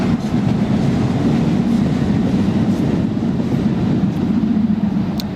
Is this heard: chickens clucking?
no